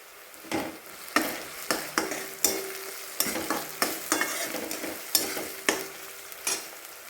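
Masala is stirred into fried tomato and onion in a pan for dhaba-style dal tadka: a steady soft sizzle under repeated scraping strokes of a spoon, about a dozen evenly spaced, close and moderately quiet.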